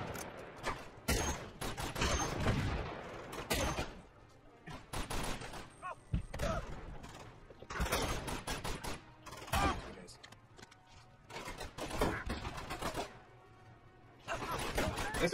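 Rapid gunfire in the video game Uncharted 2: Among Thieves, dense bursts and volleys of shots with impacts, continuous and loud throughout with brief gaps.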